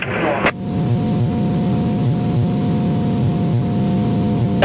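Light training aircraft engine being brought up to about 4,000 RPM during a basic descent, a steady, loud cabin drone with a constant tone and broadband noise that carries on throughout.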